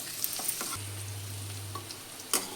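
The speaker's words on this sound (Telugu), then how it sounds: "ఇప్పుడు ఇలా లైట్గా ఫ్రై చేసుకున్న తర్వాత క్యాప్సికమ్ కొద్దిగా వేగాలండి" Onions and capsicum frying lightly in a pan, a quiet close sizzle with a few soft spatula scrapes and a brief low hum, short and without talking.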